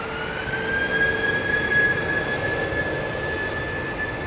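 Jet airliners departing Heathrow Airport under stormy skies, a steady broadband roar with a sustained high engine whine holding level throughout, continuous and fairly loud with no voices.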